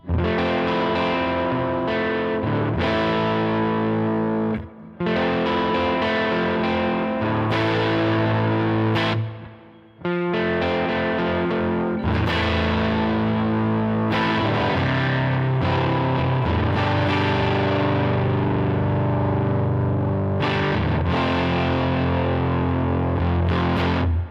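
Electric guitar played through a high-gain amp model on a Line 6 HX Stomp, thick distorted chords and notes ringing continuously with brief pauses, loud and close.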